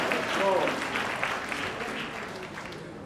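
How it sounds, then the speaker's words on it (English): Audience applause at a Jamaican entertainment awards ceremony, a steady dense patter of many hands clapping throughout, with a voice briefly speaking over it near the start. "Clap him."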